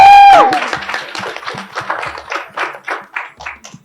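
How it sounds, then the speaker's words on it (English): Audience applause for a volunteer at a workshop, a burst of clapping in a room that swells in uneven waves after a brief tone at the start, with scattered individual claps standing out. "Let's give him a round of applause."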